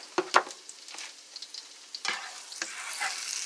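A utensil stirs vegan food in a pan with sesame oil, producing a soft sizzle punctuated by several sharp scrapes and taps against the pan, close up and with no speech.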